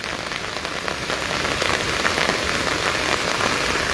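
Heavy rain pours steadily on the streets of Digha, a dense, continuous hiss of drops drumming on a surface, loud and close throughout with no voices.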